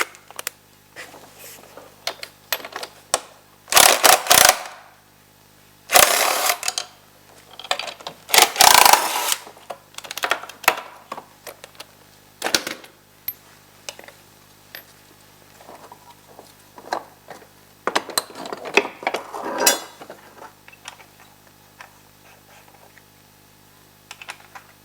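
Old ski being unbolted and pulled off a Ski-Doo Rev 800 mod snowmobile: sharp clanks and rattling metal knocks in irregular bursts, with quieter handling noises between them.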